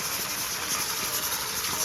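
Garlic fries in a covered pan over an open campfire, giving a steady, dense sizzling hiss that runs unbroken and fairly loud throughout.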